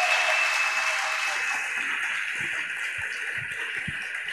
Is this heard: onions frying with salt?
no